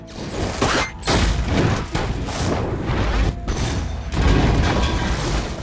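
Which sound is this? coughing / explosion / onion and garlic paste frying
explosion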